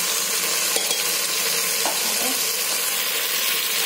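Soft scraping and clinking of a spoon stirring salted trotter soup in a metal pressure cooker, a couple of light taps, steady low kitchen noise throughout, no talking.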